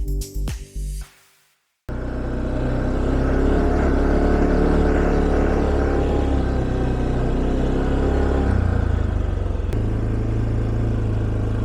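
A 2020 Tracker 570 4WD ATV drives over grass in a wooded area, its engine droning steadily and close for about ten seconds after a brief burst of handling noise, with a slight change in pitch near the end.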